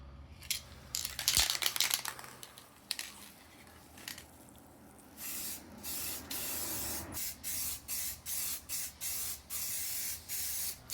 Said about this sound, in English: some gloss black spray paint